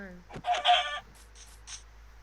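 Chickens and a rooster in a video game village cackle and cluck in a short burst, loud and close, followed by a few softer clucks.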